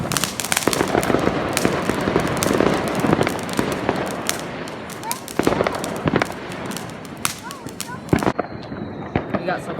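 Fourth of July backyard fireworks going off in rapid, irregular crackling bursts and pops, loud and near, with people talking over the barrage.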